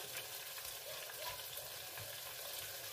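Close, continuous sizzle and crackle of fish frying in a pan during a simple home dinner, steady and even for the whole stretch, with faint stirring clinks and no voices.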